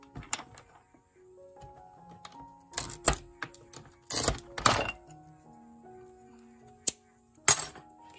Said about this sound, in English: If you hear a noise in the background, that's my wife actually making jewelry.